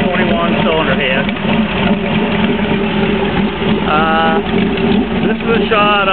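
A 6.2 liter LS3 V8 from a 2008 Corvette idles steadily on a test run, a constant loud rumbling drone with a faint whine riding over it and no pauses.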